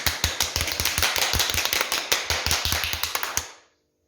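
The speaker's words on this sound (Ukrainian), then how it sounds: "Давайте поаплодуємо собі гучно-гучно." A group of children claps together in a fast, lively burst for about three and a half seconds, then the applause stops abruptly into silence.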